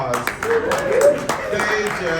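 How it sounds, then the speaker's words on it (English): Audience at a self-advocacy in healthcare conference claps briefly in sharp, scattered bursts, mostly mixed under and around a speaker's voice. "round of applause"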